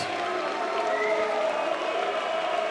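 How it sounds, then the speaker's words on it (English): Applause for both boxers after a four-round Commonwealth light flyweight bout in Beverley, a steady burst of crowd clapping throughout with cheering mixed in. "can we please have a big round of applause for both of our boxers?"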